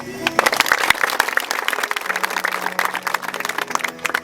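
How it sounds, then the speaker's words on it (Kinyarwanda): Audience applause at a church event in Bubanza, Burundi, dense clapping from a crowd that fills the moment, with voices and a sustained musical tone running underneath. "Reka rero dukomere Imana amashyi."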